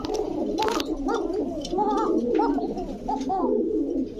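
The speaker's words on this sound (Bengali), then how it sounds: "এই যে দেখেন আবার ডাকটা দেখেন" A caged pigeon coos close by in repeated rolling, throaty calls, loud and clear, with a few faint higher chirps and rustles in the background.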